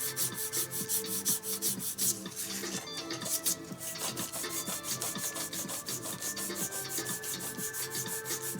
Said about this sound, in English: Cue time lapse while I do more sanding.